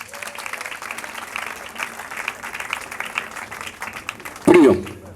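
A church congregation at a funeral service claps steadily in a dense, moderately loud patter, with voices mixed in, ending in a brief louder thump.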